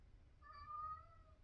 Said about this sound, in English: And there's the cat.